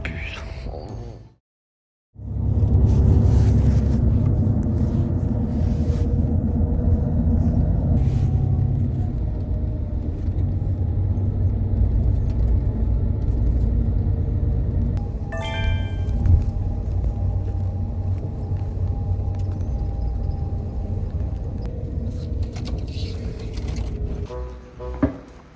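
A bus on a long road trip rumbles along with a steady low engine drone and road noise that fills the interior, broken by a brief silence near the start and faint clicks and rattles later on.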